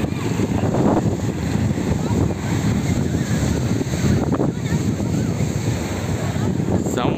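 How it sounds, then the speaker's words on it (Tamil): Strong wind at the beach in Velankanni roars continuously into the microphone over surf breaking by the sea, loud and unbroken, with faint voices in the background. "சரியான காற்று அடிச்சிருக்கு."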